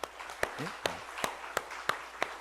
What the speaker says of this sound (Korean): 우리 어린이들 자 박수 한번 해줍시다.